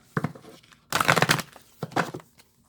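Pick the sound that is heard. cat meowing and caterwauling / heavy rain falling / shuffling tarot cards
shuffling tarot cards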